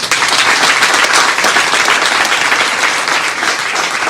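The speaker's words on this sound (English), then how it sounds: "Let's give them a round of applause" Crowd applause for park volunteers at a township bicentennial event outdoors, loud dense clapping sustained throughout without talk.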